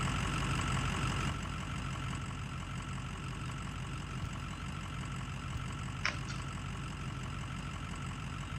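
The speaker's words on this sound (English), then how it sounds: "Truck is really loud." A monster truck engine in the video game Spintires rumbles steadily at idle, a continuous mid-low drone with one brief high click partway through.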